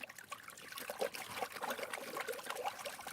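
Water sloshes and trickles steadily as a gold pan is shaken underwater during panning, with soft continuous splashing and small gurgles close by.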